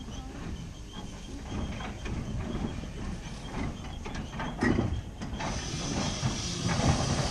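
A heritage train pulls into a small station at a campsite, giving a steady broadband hiss of steam with rumbling running gear and a few sharper clanks, close and continuous throughout.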